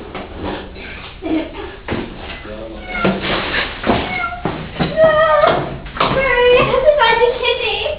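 A cat meows several times amid other household noise and people talking, the cries growing clearer and more frequent toward the end.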